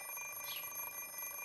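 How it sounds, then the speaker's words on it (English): An alarm clock rings in the Fate/Stay Night visual novel game, a steady, faint, high-pitched electronic beeping tone lasting about a second and a half with no voices. "I stopped the alarm clock with a sigh."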